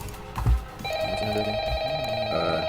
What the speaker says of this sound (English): and then I got a call on the phone.